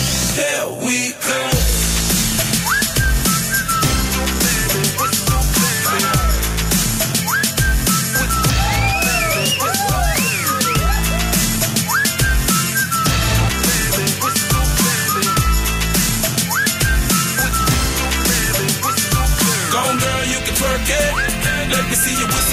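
Whistling runs through a pop song as a repeated tuneful whistle hook riding over a loud, dense backing track of beats and music.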